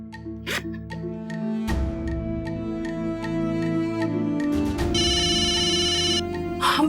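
A phone rings in a home during a Hindi TV drama, a bright warbling electronic tone that sounds near and clear, joined by some clicks and other sharper tones.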